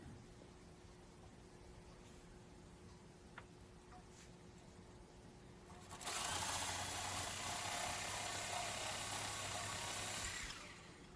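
Threads being cut off a store-bought steel bolt, with a low steady hum at first, then a loud harsh rasping noise that runs continuously for about four seconds before stopping.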